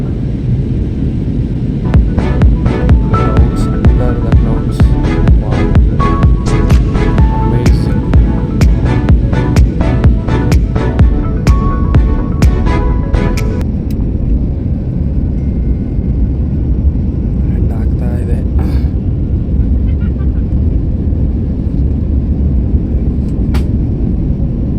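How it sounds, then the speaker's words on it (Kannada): Steady low airliner cabin drone during descent on a Bangalore to Ahmedabad flight, loud and continuous throughout, with a cluster of light clicks and taps over the first half. "ಫ್ಲೈಟ್ ಈಗ ನಿಧಾನಕ್ಕೆ ಕೆಳಗಿಳಿತಾ ಇದೆ."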